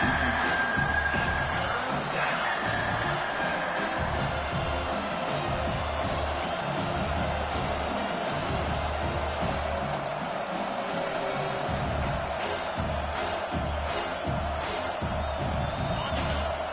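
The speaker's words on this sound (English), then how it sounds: "Here comes this home crowd" The home crowd at a college football game against Utah roars steadily as the defense faces third down, a dense, constant wall of cheering with faint commentary beneath.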